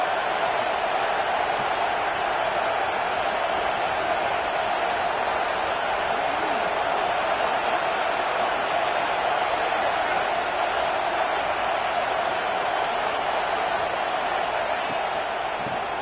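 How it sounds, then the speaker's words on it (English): Crowd noise fills a stadium during the early stages of a football game, a steady roar that holds level throughout with no clear peaks of cheering. "Listen to the crowd energy here in the early going."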